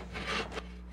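Athabascan women sawing wood in a lively contest: two quick close rasping saw strokes in succession over a low steady hum, with no talk.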